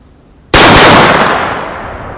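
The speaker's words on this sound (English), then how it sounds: "Do a quick double tap again." A Beretta A400 Xtreme shotgun fires 3-inch Hypersonic steel shells in a quick double tap, an abrupt very loud blast with a second shot close behind, followed by a long fading roar outdoors.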